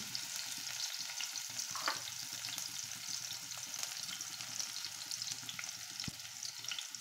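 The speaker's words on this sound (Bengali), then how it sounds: "পেঁয়াজ কেটে দিয়ে দিচ্ছে, রসুন কেটে," Chopped onion, garlic and green chili fry in oil for an egg and pointed gourd stir-fry, making a soft, continuous sizzle with light stirring clicks, fairly quiet and close.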